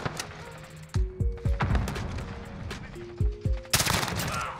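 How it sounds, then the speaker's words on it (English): SMG gunfire in a Call of Duty shootout: loud, close rapid bursts of shots in two clusters, with sharp reports and a heavy final blast, alone without talk. "SMG rounds are pretty good"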